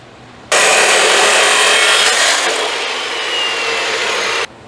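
Saw cutting through wood, likely a power saw while building a homemade gooseneck trailer, a loud continuous rasping roar lasting about four seconds then stopping abruptly.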